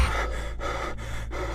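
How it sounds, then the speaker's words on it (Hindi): A man who has just woken from a nightmare pants heavily, with four rapid, loud, evenly spaced gasping breaths close up and no words spoken. "वो जोर जोर से हाँफ रहा था।"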